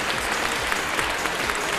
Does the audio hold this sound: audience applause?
yes